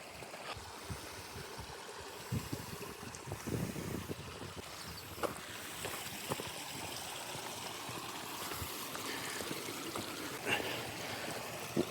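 Waterfall and stream on a rocky hiking trail in Carding Mill Valley, Shropshire: a steady, fairly loud rush of falling and flowing water fills the whole stretch, with scattered splashy accents.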